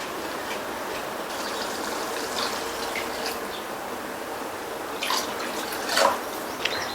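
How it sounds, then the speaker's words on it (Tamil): Two cups of water poured into a pan of uruNdai kuzhambu curry, giving a soft continuous trickle with scattered drips and splashes that grow slightly louder toward the end, with no talking. "ரெண்டு கப் தண்ணி சேர்த்திருக்கேன்"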